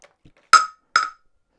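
Two crisp, loud clacks about half a second apart as a Nintendo Switch 2 with a clear tempered glass screen protector is dropped from 4 feet onto a hard surface, with silence around them.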